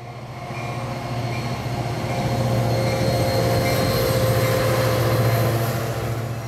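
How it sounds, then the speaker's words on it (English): The outbound 517 Music City Star commuter train at Donelson station gives a steady, loud rumble of rolling wagons, with sustained wheel squeal riding on top and swelling as it passes close by. "517 Music City Star was right on time in Donelson today"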